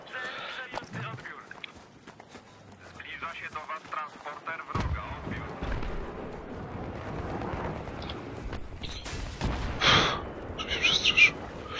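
Heavy booming blasts in Battlefield 3 suggest tank cannon fire, deep explosive thuds landing amid battlefield noise while someone talks excitedly over the action.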